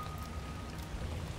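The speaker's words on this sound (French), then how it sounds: "Oh, il pleut, quel dommage." Steady rain patters in the ARK Ragnarok video game, a soft, even hiss of falling drops with no voices.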